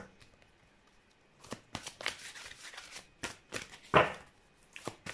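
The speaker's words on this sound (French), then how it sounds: "je tire 2 cartes de l'oracle des chakras" Oracle cards from a chakra deck are shuffled and drawn, giving soft papery flicks and riffles in irregular clusters, close and fairly quiet, with one sharper slap near the end.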